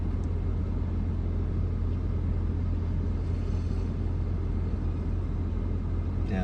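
A car engine running rough, a steady low rumble with a ragged, uneven idle that carries on without a break, close and moderately loud, with no talking.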